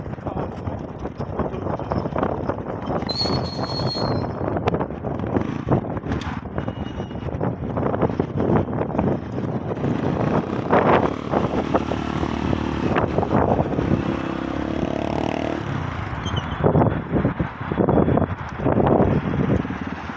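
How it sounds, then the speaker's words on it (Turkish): A motorcycle engine idling and revving after a cold-weather start, a loud uneven rumble close by with bursts of throttle and some mechanical clatter. "Devresi saldığımızda ise motorumuz çalışıyor"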